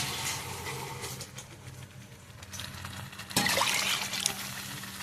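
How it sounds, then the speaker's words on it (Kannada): Water pours into a pan of peas for matar paneer gravy, a soft trickle that surges into a louder splashing pour partway through before easing off, fairly quiet overall. "ಬಟಾಣಿ ಹಾಕಿದಾಗ ನಮಗೆ ಎಷ್ಟು ಬೇಕೋ ಅಷ್ಟು ನೀರನ್ನು ಹಾಕುವ"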